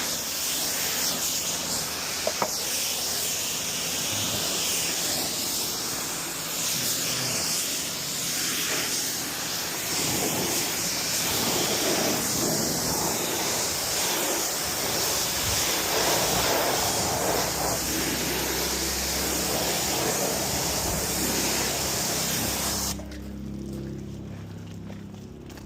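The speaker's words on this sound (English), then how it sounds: "Giving it a quick rinse." A water spray hoses down a horse trailer in a steady, loud, continuous hiss that runs almost the whole time before easing off near the end.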